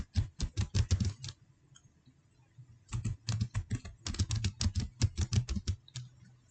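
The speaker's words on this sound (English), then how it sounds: "type your password for this domain" Password keystrokes on a computer keyboard during a Windows server domain setup, heard as quick clattering bursts of typing, a pause of about two seconds, then a longer run of close, crisp taps with no speech.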